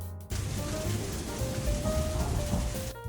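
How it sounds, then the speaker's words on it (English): Heavy rain pouring down during a night storm in a garden, a dense continuous hiss that starts suddenly and holds steady, with faint tonal music underneath and no speech. "Rain poured down."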